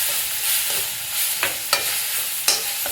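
Okra sizzles in a pan with garlic and turmeric as it is stirred, a steady frying hiss broken by a few sharp scrapes of the spoon against the pan, with no talk.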